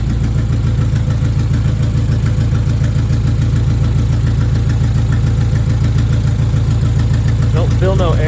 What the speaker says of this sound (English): Definitely sounds a little deeper getting air from the turbo, but the idle might be a little higher too